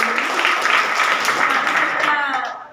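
Sustained crowd applause for a quiz team at an Odia language and culture quiz, a dense steady patter of many hands that holds evenly for a couple of seconds before tapering off at the end.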